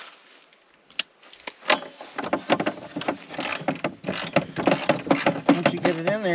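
A ratchet with an extension tightening a bolt on a Yamaha Grizzly 700 EPS SE ATV, giving rapid metallic clicking in quick bursts, close and fairly loud, with some handling clatter.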